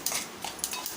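Spoon stirring a tempering of asafoetida and turmeric in a pan for dahi kadhi makes a few faint metallic scrapes and clinks, quiet and close, with a soft sizzle underneath.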